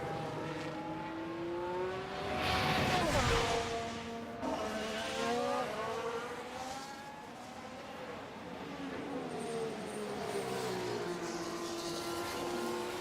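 Formula 1 cars race in the F1 Manager 24 game at Montreal: layered, whining engine tones rise and fall, with one loud close pass near the start, then continuous overlapping engine pitches sweeping by.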